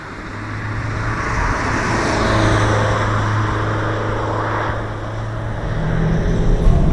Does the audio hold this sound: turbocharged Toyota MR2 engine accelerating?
yes